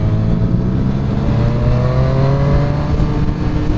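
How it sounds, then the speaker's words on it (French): A 2020 BMW R 1250 GS boxer twin motorcycle engine runs loud and close with a steady, throbbing drone that rises slightly in pitch as it is revved, continuous with no talk. "la moto elle fait quand même un super beau bruit"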